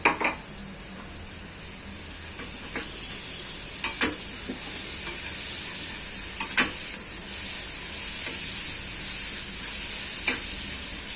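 Steady frying sizzle of finely chopped cabbage with a few sharp scraping stirs of a utensil against a pan, close by, no talking.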